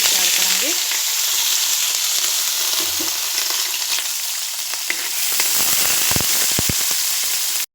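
Sliced onions fry with cumin in a pan, giving a dense, steady crackling sizzle close by, with a few sharp spoon taps and clatters near the end before it cuts off.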